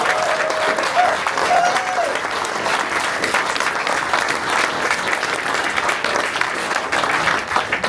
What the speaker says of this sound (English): One more Summit round of applause for these folks.